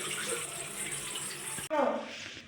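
Tap water running into a sink as hands are washed at home, a steady close splashing hiss that cuts off abruptly, then a brief fuller gush of water.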